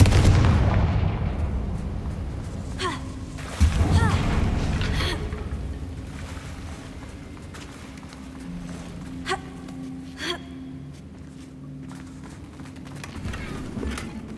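Confringo explosive spell blasts in Hogwarts Legacy, striking near a damaged bridge: a heavy boom opens, followed by further sharp impacts and crackling bursts over a low rumbling game backdrop.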